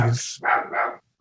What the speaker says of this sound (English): He barks at his shadow.